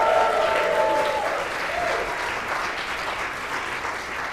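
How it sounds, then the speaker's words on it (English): Church congregation at Sunday worship giving a round of applause for Deb Klein: dense, steady clapping from a large group, loud at first and easing slightly, with a brief tone heard early on. "She gets her own round of applause."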